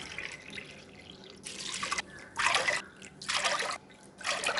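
Water is poured in several splashing bursts into a cooking pot for sambar rice, each pour lasting about a second with short pauses between, fairly close.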